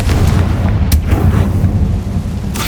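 A Confringo fire spell explodes in Hogwarts Legacy, giving a loud, booming blast with a sharp crack near the start, rumbling debris, and a second burst at the end.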